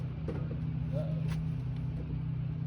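The engine of an abandoned 1967 Ford Highboy truck runs with a steady, loud, close rumble, holding a constant low drone with slight throttle fluctuations.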